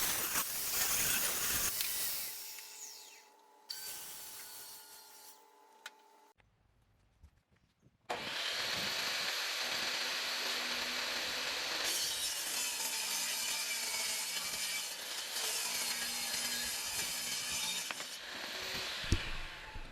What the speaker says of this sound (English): Then I squared up the edges of the shelves on the table saw.